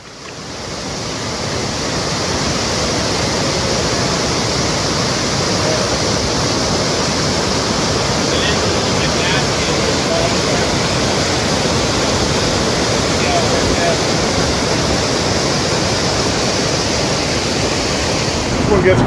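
A waterfall roars steadily at close range along a narrow canoe run in wilderness parkland, a dense, unbroken rush of water that holds loud and constant throughout, with faint wind noise mixed in.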